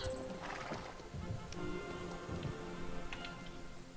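Horse hooves in the video game Star Stable, a continuous stream of game sound with galloping hoofbeats mixed under rain-like patter and layered ambient effects, steady and fairly loud throughout.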